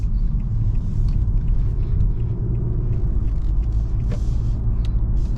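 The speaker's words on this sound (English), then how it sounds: "Let's go ahead and take this Altima on the highway and see how it does." A 2022 Nissan Altima drives on a highway in sport mode, with a steady, loud low-frequency engine and road rumble throughout, heard from inside the cabin.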